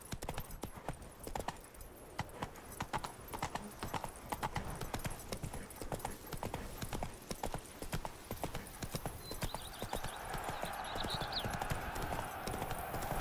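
Horse Roach's hooves clip-clop in steady rhythm across The Witcher 3 game world, joined by a brief whinny and other game sounds near the end.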